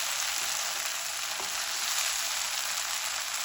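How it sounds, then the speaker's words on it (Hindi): Large cut pieces fry in a hot pan on a stove with a loud, steady, even sizzle that holds throughout, with no talking. "बस 1 मिनट ये डाल के ना 1 मिनट बस इसको फ्राई करेंगे"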